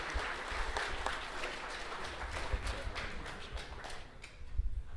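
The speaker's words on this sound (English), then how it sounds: "Give these guys a big round of applause." An audience claps steadily in dense, sustained applause, fairly close, with a few louder claps standing out before it tapers slightly.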